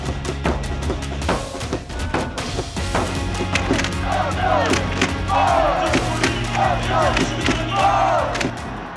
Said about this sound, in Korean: 관중석 응원의 열기는 한층 더 뜨거워집니다.